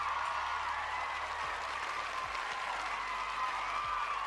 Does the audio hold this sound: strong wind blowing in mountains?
no